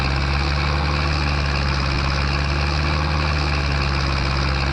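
A tractor engine idling in Farming Simulator 22, a steady low rumble that holds constant and loud with no change in pitch or rhythm, heard alone.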